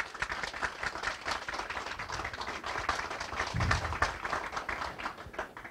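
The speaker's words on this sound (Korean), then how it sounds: "큰 박수 한번 부탁드리겠습니다" An audience claps in sustained applause at a Korean foundation forum lecture, a dense crowd of hand claps lasting several seconds before tapering off.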